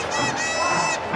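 A big rugby stadium crowd roars as a team runs out for a Ranfurly Shield match between Counties Manukau and Taranaki in the 2013 ITM Cup, a dense, steady wall of cheering and shouting that holds loud throughout.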